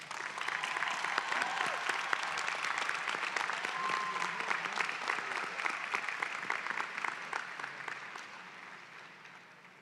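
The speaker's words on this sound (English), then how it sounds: "Let's give them another round of applause." A commencement audience breaks into sustained, dense applause that fills the hall at a steady level and then gradually tapers off toward the end, with a faint voice or two underneath.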